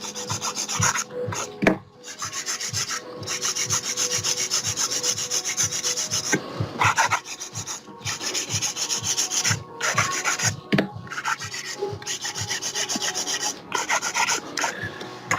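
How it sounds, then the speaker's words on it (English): Steady rasping strokes of a hand file on a nail, a quick rhythmic scraping repeated back and forth, close and clear with brief pauses between bursts. "But when it comes to shaping, you know, I use hand file"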